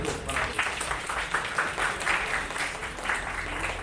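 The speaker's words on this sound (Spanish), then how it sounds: "de nuevo un aplauso para ustedes" Audience applause at a presentation, dense steady clapping filling the whole stretch at moderate loudness.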